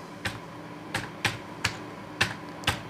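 Keys tapped on a computer keyboard while a folder path is typed, six crisp separate clicks at a slow, slightly uneven pace, close and quiet with no talk.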